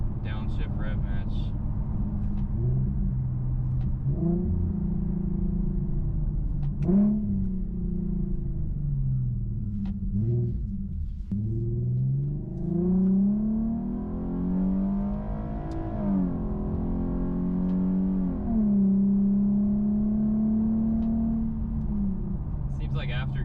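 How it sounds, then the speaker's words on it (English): Infiniti Q50 with a custom exhaust growls as the engine blips and sweeps through rev-matched downshifts while rolling, rising and falling throaty revs heard close over a steady low rumble. "Let's do a rolling downshift rev match."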